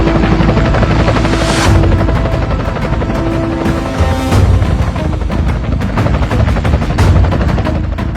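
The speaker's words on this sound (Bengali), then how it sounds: "এলাকায় হেলিকপ্টার কে নিয়ে আসলো?" A helicopter arrives overhead with loud, rapid rotor chopping that pulses steadily throughout, close and dominant, with no voices.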